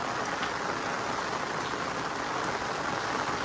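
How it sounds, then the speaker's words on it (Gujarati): Heavy rain pours steadily in the Gir forest, a dense, even hiss of downpour close by with no pauses and no voices. "વેકરા પાસેથી આગળ વરસાદ આવી છે."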